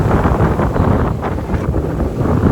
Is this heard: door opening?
no